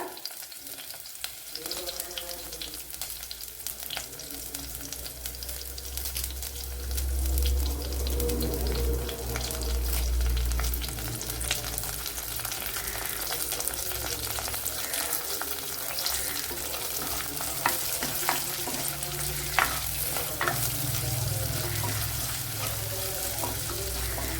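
Green chillies, garlic and curry leaves fry in oil as the base of a Kerala fish curry, a continuous close sizzle with occasional stirring scrapes over roughly twenty seconds.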